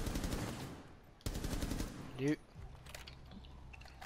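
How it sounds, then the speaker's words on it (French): Gunshots in Rainbow Six Siege ring out in quick rapid-fire bursts, fairly close, with a sharp mechanical whirring sound between them and someone talking over the action. "Il a tiré dans le mur, il m'a eu."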